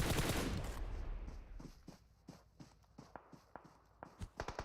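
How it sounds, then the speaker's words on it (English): Gunfire hits a BTR armored vehicle in PUBG Mobile during a PMGC 2021 esports match: scattered sharp shots and bursts, fairly faint, following a loud noisy blast at the start. "as Infinity lay the shots, the bullets on the BTR"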